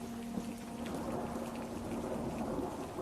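Steady, dense rain pours down on a small roadside pakora stall whose old tent cover has been torn away by strong wind. The hiss is continuous and close, with a faint low hum underneath and no voices.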